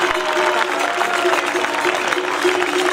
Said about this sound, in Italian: Al secondo posto un altro fortissimo applauso per Luca Carrara